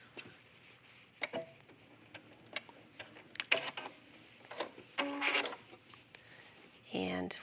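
A home sewing machine stitches the shoulder seams of a yoga top with stretch thread, giving short bursts of mechanical ticking and whirring between stretches of nearby talking.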